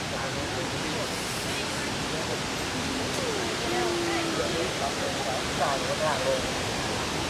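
A waterfall near Pakxong in Laos rushes with a constant, full wash of white noise that fills the scene, and faint voices sound over it now and then.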